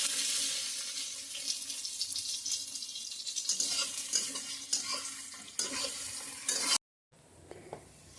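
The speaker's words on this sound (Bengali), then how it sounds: "রসুনটা একটু লাল লাল করে ভাজা হয়ে গেছে, তারপর দিয়ে দেবো টমেটো।" Garlic and tomato fry in a pan with a strong hiss and frequent spatula scrapes, then the sizzle cuts out briefly before resuming quieter.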